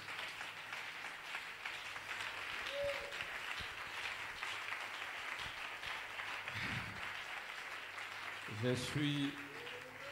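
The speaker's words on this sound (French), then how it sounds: "Est-ce qu'on peut encore acclamer le Seigneur?" A church congregation applauds in a steady, dense wash of clapping that fills the space and lasts throughout, with a voice speaking over it and a brief louder burst near the end.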